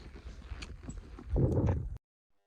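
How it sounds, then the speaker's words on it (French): Horses walking out on a 10-15 minute ride, hooves clip-clopping irregularly under steady wind and rustle, with the steps growing louder and denser before cutting off abruptly. "on a à peu près 10-15 minutes de marche, donc c'est cool, les chevaux vont pouvoir se détendre"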